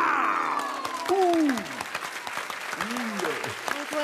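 Audience applause in a television game show studio, a steady wash of many hands clapping that starts loud and continues, with a host's voice and a music sting over it.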